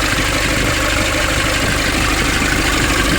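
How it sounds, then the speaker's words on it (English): A 2005 Nissan Urvan diesel engine idles steadily after a restart following a fuel pump repair, a loud, continuous low rumble with a constant mechanical clatter throughout and no talk. "So now the engine is coming up again."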